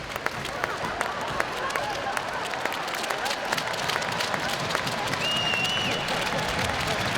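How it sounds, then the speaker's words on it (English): An ice hockey crowd at a Sheffield Steelers versus Nottingham Panthers game applauds a Steelers player with steady, sustained clapping throughout, while a commentator talks over it. "the crowd are applauding him"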